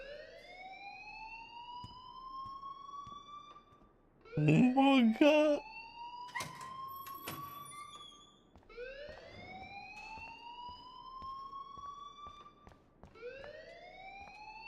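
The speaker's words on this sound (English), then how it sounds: "please turn off that alarm" A video game alarm wails in repeating rising sweeps, loud and continuous, briefly interrupted by a person's startled exclamation in the middle.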